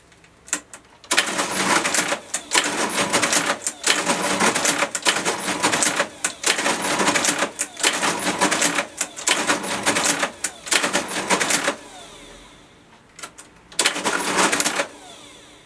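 A Sweda model 46 cash register prints an inspection report, giving loud, rapid mechanical clatter in long bursts with brief pauses between runs and a short quiet gap before a final burst.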